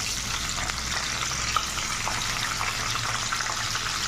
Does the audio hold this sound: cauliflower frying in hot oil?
yes